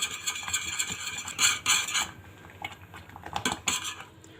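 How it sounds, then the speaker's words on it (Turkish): Portuguese aletria vermicelli pudding stirred in a pot, a metal spoon scraping and clinking against the pot in quick uneven strokes, close and fairly quiet. "Kıvam alana kadar e, bu şekilde karıştırarak pişirelim."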